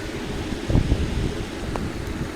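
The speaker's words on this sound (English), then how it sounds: "The wind is at my back." Wind buffets the microphone while cycling along the coast, a steady rushing roar with a few gusty thumps; no speech.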